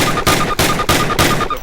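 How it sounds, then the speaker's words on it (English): Gunfire at a target during boot camp in the video game Call of Duty, several loud rounds fired in quick succession with evenly spaced heavy blasts, close and punchy. "Fire 10 rounds at your target, first from the hip, then aiming down the gun."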